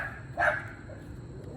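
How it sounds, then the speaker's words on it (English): A dog gives a single loud alert bark at someone it has spotted, followed by quieter background and the start of another bark at the very end. "My dog has seen someone, so now he's alerting everyone."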